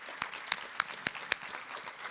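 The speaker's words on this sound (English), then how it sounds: "So round of applause." A symposium audience at an Urban Land Institute event applauds, with scattered distinct claps standing out over a soft, steady patter of hands for a couple of seconds.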